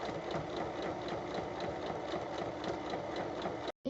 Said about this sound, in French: je plie en deux et je pique sur toute la hauteur à 1 cm